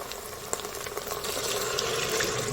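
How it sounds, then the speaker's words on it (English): Organic beef bone broth pours into a pot for a carnivore bacon cheeseburger soup, a steady liquid rush that swells and grows fuller over a couple of seconds. "Go ahead and pour that in there."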